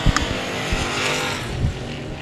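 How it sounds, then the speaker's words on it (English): Race cars roaring around the Cotton Bowl Speedway, a loud, dense engine drone with passing surges and faint tire noise, steady throughout the short stretch without commentary. "Ingram in that 51 has almost the full straightaway length lead over the 86 of Tyndall"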